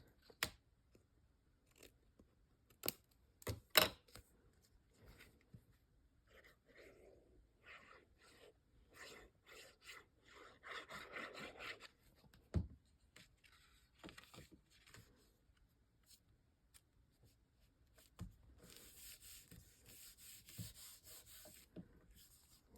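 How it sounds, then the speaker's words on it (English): Paper card scraps being trimmed with scissors during crafting, giving soft scattered snips and rubbing sounds spaced irregularly, close and fairly quiet, with no talking. "Let me trim this off just a little."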